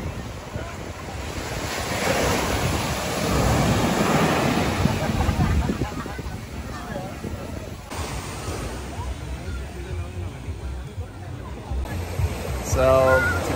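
Surf washing ashore at Vanilla Beach in El Nido, Palawan, a broad steady rush of waves mixed with heavy wind buffeting the microphone, with voices faintly heard nearby.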